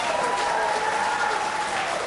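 An audience applauds after a political debate for a United States Senate seat, a sustained burst of many hands clapping at a steady loudness, with a tonal note running beneath it and no clear talk.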